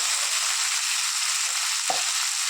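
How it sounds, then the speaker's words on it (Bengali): Onion fries in hot oil in a pan, a steady bright sizzle holding evenly throughout, with one brief soft knock near the end. "দিয়ে দিলাম পেঁয়াজটা ভাজা হতে"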